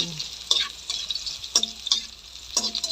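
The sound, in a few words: stirring ginger frying in a pan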